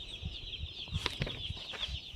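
High, continuous peeping of about forty tiny baby chicks, a dense chorus with some soft low thumps beneath.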